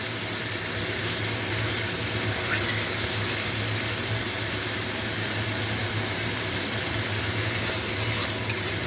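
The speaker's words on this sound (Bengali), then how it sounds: "এটার থেকে মশলা কষাতে কষাতে তেল ছেড়ে গেছে, তেলটা মশলাটা কষানো হয়ে গেছে" Spices for a low-oil fish curry sauté in oil until the oil separates, producing a continuous, fairly loud sizzle and hiss with faint stirring scrapes throughout and no voices.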